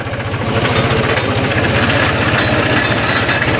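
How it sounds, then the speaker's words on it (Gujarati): A tractor engine runs steadily in a farm field during sorghum work, loud and close, with a rapid low chugging pulse throughout and no voices. "જે બધા આપણે ટ્રેક્ટર ચાલુ છે"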